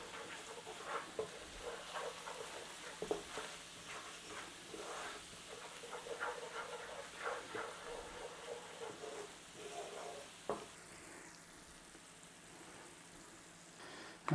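Spices blooming in hot oil for paneer lababdar, a soft continuous sizzle with faint crackles and occasional stirring scrapes, quiet and close, no voices.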